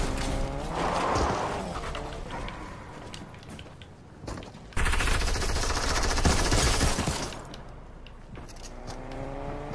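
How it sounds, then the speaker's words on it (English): Infantry rifle gunfire in a video game, bursts of shots mixed with a roaring engine-like rush and other game effects, loud and close throughout with no talk. "An infantry rifle!"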